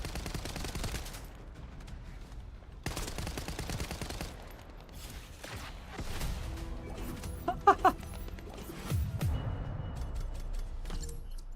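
Rapid bursts of gunfire from shooting enemies in The First Descendant, with dense automatic fire and crashes rising and falling through a busy game battle, a few sharp louder shots standing out near the middle.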